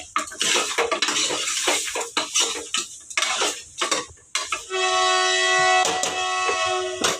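Chicken curry being stirred in a pot with chilli, turmeric and salt, with loud close clinks and scrapes of a metal spoon against the pot, then a sustained ringing metallic tone near the end.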